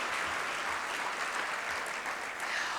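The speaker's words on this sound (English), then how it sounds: "Let's give another round of applause to the Partner of the Year" Sustained audience applause fills an awards ceremony hall, steady dense clapping from a large crowd throughout, with no one speaking over it.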